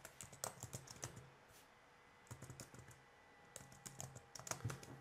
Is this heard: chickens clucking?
no